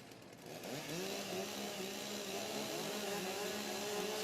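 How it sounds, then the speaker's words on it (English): Several STIHL stock chainsaws warm up at a timbersports competition, a loud, sustained buzzing whine that climbs in pitch as the throttles open and holds steady with no voices. "warm up your saws"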